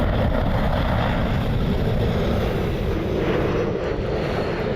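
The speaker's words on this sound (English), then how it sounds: "Southwest 3171 inbound from BWI." A Southwest airliner inbound from BWI lands at Cleveland airport in strong crosswind, its jet engines a loud steady roar throughout with no voices.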